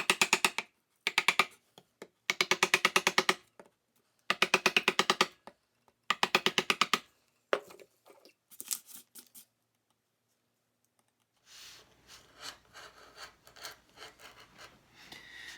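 Chisel carving a wooden sign, a run of rhythmic scraping strokes in bursts, then lighter, scattered rubbing and tapping near the end, close and fairly loud.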